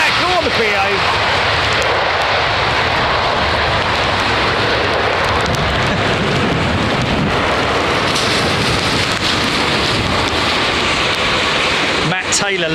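A big British Airways airliner arrives on runway 27R at London Heathrow, a loud, continuous broadband roar that fills the whole stretch and stays close and steady throughout.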